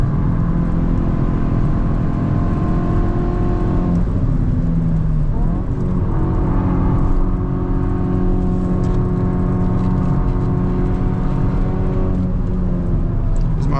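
Hyundai N car driving hard through a Nurburgring corner lined with bumpy concrete blocks, a steady loud engine drone with road rumble and suspension thumps, no talking.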